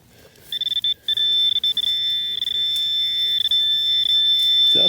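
Metal detector giving a sharp, high steady signal tone over a buried bullet at a Civil War site, sounding in short stuttering bursts and then holding, close and loud over faint outdoor background.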